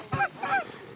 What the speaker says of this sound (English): Got some geese where that tree's at over there.